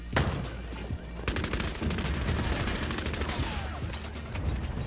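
Gunfire in the Bloodhunt team deathmatch video game, a loud opening shot followed by rapid bursts of automatic fire, dense and close, continuing to the end.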